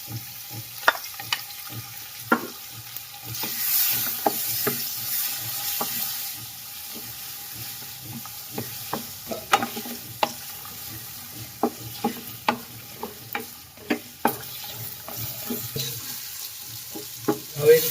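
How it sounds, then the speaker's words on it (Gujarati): Ginger-chili paste sizzles in a pan of sambar with drumsticks, bottle gourd and tomato, steady frying hiss under repeated clinks and scrapes of a stirring spoon, close and fairly quiet, with no talk. "આદુ મરસાની પેસ્ટ નાખી દઈએ"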